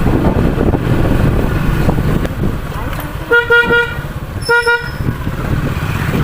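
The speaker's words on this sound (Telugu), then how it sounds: "హారన్ పెద్దది పెడితేనే వింటారు ఫ్రెండ్స్" A vehicle horn honks amid city traffic in Kothagudem, heard from a motorcycle: two clusters of short, loud, bright toots near the middle and end over a steady engine and road rumble.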